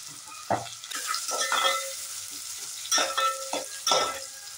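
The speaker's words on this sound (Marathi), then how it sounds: "आता बारीक चिरलेला कांदा टाकला" Finely chopped onion dropped into a mustard seed and curry leaf tempering, frying with a steady sizzle as a utensil stirs and scrapes the pan in several distinct bursts, close by.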